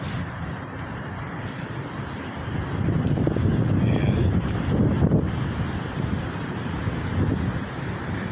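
Strong windstorm gusting through trees beside a tent, a steady roaring rush that swells louder midway and buffets the microphone, with no talk.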